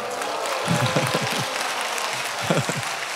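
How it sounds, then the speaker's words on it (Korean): A seated audience at a church talk concert breaks into steady, close applause, a continuous patter of many hands with a few voices speaking briefly over it. "우리 박수 한번 해주세요"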